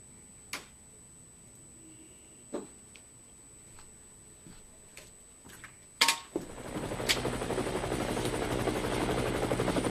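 After a few scattered clicks and knocks, a steady whirring rotor drone of a helicopter in the video game Project Fall starts up and continues loudly to the end.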